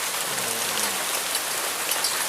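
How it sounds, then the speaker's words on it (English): Hail pelting down during a major spring hailstorm, a dense, loud, steady hiss of countless impacts with no break and no voices. "We got a major hailstorm going on. Not that much lightning, but we got a lot of hail coming down."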